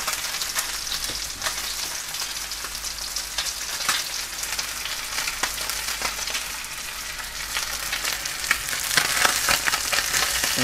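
Fish fries in a smoking-hot pan for a fish pie, giving a loud, steady crackling sizzle with sharp spits and pops that carries on without a break and swells slightly near the end.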